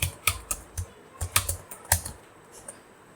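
Someone types a password on a computer keyboard: a short run of separate, crisp key taps at an uneven pace, close and fairly quiet, with no talking.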